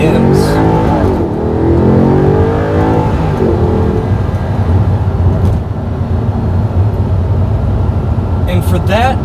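A stock 2008 Audi R8 with a V8 that revs to 8,000 RPM roars and revs loudly, its engine note rising and falling over several seconds with a sharp burst near the end.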